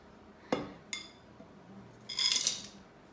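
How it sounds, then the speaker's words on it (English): A spoon stirs a mud pie mixture in a bowl, giving a few sharp clinks and scrapes: two quick taps followed by a longer burst of clattering scraping, close and fairly quiet, with no talking. "You need to give that a nice good stir"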